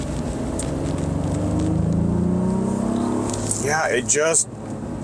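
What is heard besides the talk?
3-row SUV engine accelerating and holding gear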